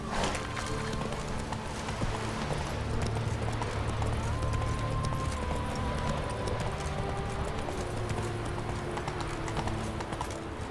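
Roach the horse gallops with steady, continuous clip-clopping hooves in The Witcher 3, loud and close over ambient game music, with a voice briefly calling out to the horse.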